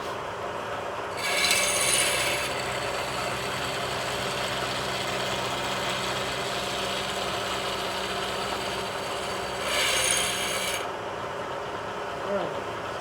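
A milling machine cutting a metal workpiece in a robotics team's shop: a steady grinding, whirring cut with a constant motor drone for over ten seconds, and two brief louder surges near the start and the end.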